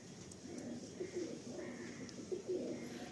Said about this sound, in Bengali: এটা ম্যাগনেট পায়রা আছে।